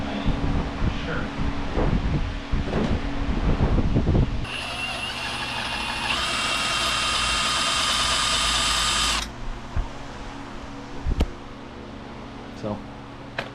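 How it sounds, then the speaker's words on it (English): Overhead drilling into metal during a 1986 Chevy K30 dually axle swap, a steady high-pitched whine held for about five seconds, with clatter and knocks before and after, close and loud. "I'm going to do some overhead drilling"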